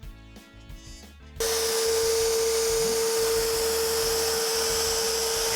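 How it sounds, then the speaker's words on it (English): A quarter-inch end mill cuts the circular perimeter of an engraved flag, starting with a sudden steady high whine that holds continuously at close range. "a 1/4 inch end mill to do the circle around the perimeter"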